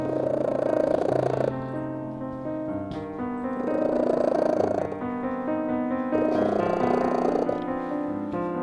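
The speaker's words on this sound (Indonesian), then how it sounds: "Kalau kucingmu menutup matanya perlahan-lahan, lalu mendengkur ketika kamu usap" A pet cat purrs steadily while being stroked, the rumbling purr rising and falling in long, even cycles of inhaled and exhaled breaths, close and loud throughout.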